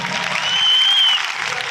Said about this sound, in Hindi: आप तालियां भी जोरदार बजा सकते हैं।